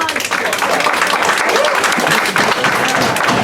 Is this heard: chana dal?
no